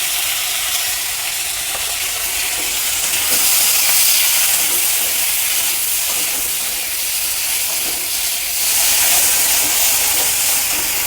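Chopped tomatoes sizzle loudly and steadily in a hot pan with fried crushed garlic, a dense, continuous frying hiss that swells slightly now and then with no voices.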